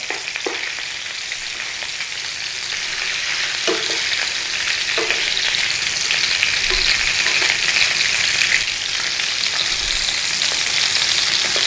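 Sausages and bacon fry together in a pan for a full English breakfast, giving a loud, continuous sizzle with occasional soft clicks as pieces are turned.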